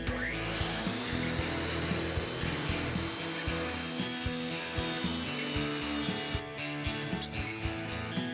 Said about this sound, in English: I measure a 5-inch piece and cut it